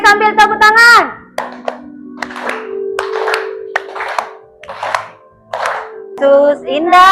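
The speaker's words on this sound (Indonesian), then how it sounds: "Oke, sambil tepuk tangan." Children clapping hands in rhythm while singing a song together in a classroom, steady claps under loud young voices, close and lively, with an adult voice leading.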